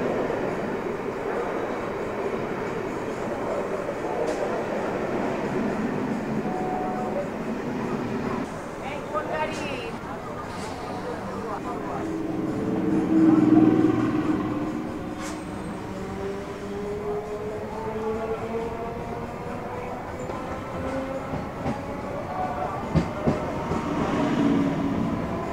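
A local commuter train running from Sealdah to Barasat, steady low rumble of the carriage rolling along the rails with faint wheel clatter and occasional squeals, plus passengers talking in the background.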